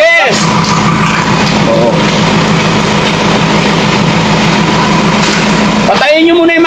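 A Ford Ranger pickup truck engine idles loudly and steadily throughout with a constant rumbling drone, and voices briefly break in at the start and near the end.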